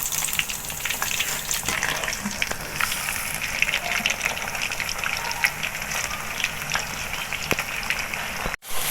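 Onion pakoras fry in oil, a dense steady sizzle heard close up with scattered crackles and pops, continuing without talk until a brief dropout near the end.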